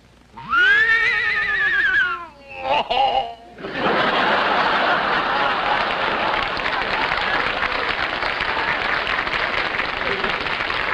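A voice actor imitates an English horse's whinny in a rising, wavering neigh with a short chuckling follow-up, then loud sustained audience applause takes over.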